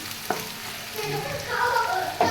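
Onions and green chillies frying in a pan, a steady close sizzle with a spatula scrape near the start and end, no speech.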